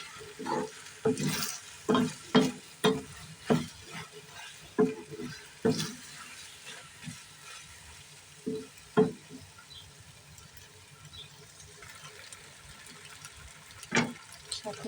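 Pasta being stirred with sugar and pasta masala in a pan, a run of sharp, rhythmic spoon scrapes and knocks close up, thinning out midway and then returning as occasional single strokes.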